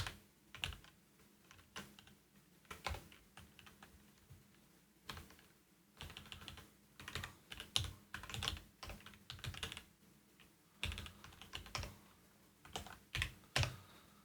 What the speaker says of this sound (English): ignoring my absolute horrible typing